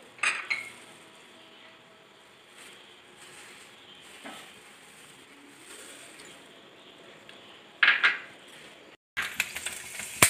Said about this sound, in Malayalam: ഉലുവ പൊട്ടി വരുമ്പോഴേക്കും കുറച്ച് കടുകിട്ട് കൊടുക്കാം